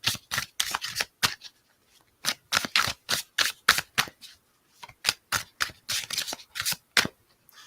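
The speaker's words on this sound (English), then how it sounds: "So that shuffling is going to be really loud because I'm doing it right next to the microphone." Close, loud playing card shuffling right next to the microphone in quick riffling bursts separated by short pauses, no voices.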